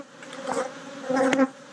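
Honeybees flying up and buzzing loudly, a close, steady drone with swelling passes as bees move near, no voices.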